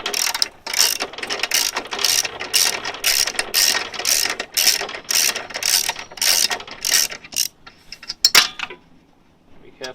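A ratchet wrench turns out half-inch bolts on the black cover of an older Victa lawn mower, giving rapid, close clicking bursts in a steady back-and-forth rhythm, then a few metallic taps.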